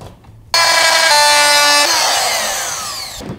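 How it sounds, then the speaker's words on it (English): A Bauer oscillating multi-tool starts with a sudden, loud, high buzzing whine as it cuts into the plastic case of a 12V LiFePO4 battery. After about a second the pitch steps, then winds down and fades before stopping. "The old handy Bauer oscillating tool from"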